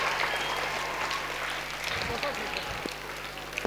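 Audience applause welcoming a guest of honour at a high school felicitation ceremony, a steady, dense clapping from a crowd that holds at an even level throughout.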